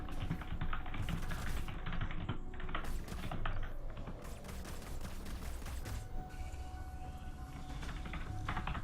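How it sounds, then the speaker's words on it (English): Computer keyboard typing in the background of a Halo Wars 2 1v1 match, rapid irregular clicking that runs on and off throughout, fairly faint beneath game sounds. "Still typing feverishly in the background,"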